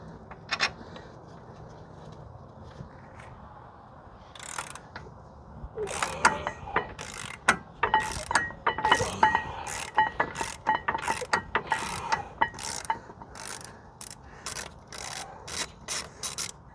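A ratchet loosening a brake caliper bolt on a Jeep Wrangler JK, starting with faint scraping and then a long run of quick rapid clicking strokes up close, irregular bursts with short pauses.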